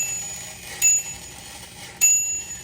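Two light bell dings from a remote-control merry-go-round toy truck ring about a second apart, thin and bright, over a quiet background.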